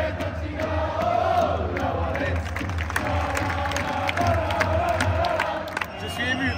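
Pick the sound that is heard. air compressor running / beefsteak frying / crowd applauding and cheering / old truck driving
crowd applauding and cheering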